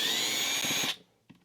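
Power drill backing screws out of a Marshall Origin 50 guitar amp, a close whirring run of under a second that stops abruptly, followed by a faint click.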